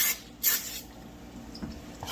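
Non-stick cooking spray hisses onto a pan in two short bursts, the second one louder, followed by quiet kitchen background.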